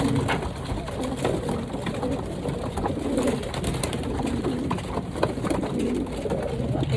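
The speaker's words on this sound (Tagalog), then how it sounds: "Nakita nyo yung mga gandang kalapati ni Mr. Nakamura." Soft cooing of racing pigeons in Japan mixed into a busy, steady background of birds fluttering and calling, fairly close, with no talking.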